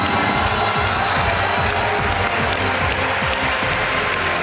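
A television quiz show studio audience claps in sustained, dense applause that stays loud and even throughout, with no voices over it.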